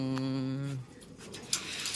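A pigeon coos in a low, steady tone near the start, followed by soft rustling and background noise.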